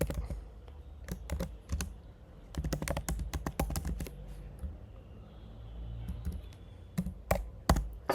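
Quick bursts of typing on a computer keyboard, with clustered clicking keystrokes up close, then a short lull and a few final taps, with no talk.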